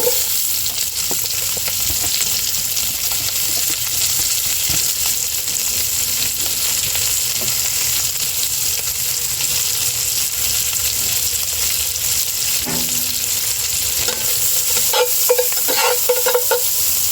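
Onions sizzle and fry steadily in a Lodge camp Dutch oven, a continuous close hiss with occasional scraping stirs and clinks near the end, no talking.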